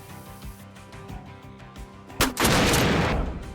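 Door Kickers 2 combat: a rattle of sharp gunshots, then a loud grenade blast followed by a sustained roar of explosion and fire that slowly fades.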